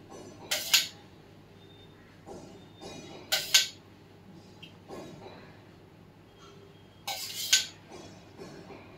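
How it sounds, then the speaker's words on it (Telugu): Four small spoonfuls of oil tipped into a cooking pan while making an eggplant tamarind stew, heard as three distinct sizzling splashes spaced a few seconds apart, fairly faint against a quiet kitchen hum. "నాలుగు స్పూన్లు నూనె వేస్తున్నానండి"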